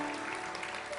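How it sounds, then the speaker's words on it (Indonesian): Audience applause from a seated crowd at a comedy talk show, a dense steady wash of clapping filling the whole short moment without talk over it. "Oke, tepuk tangan semuanya."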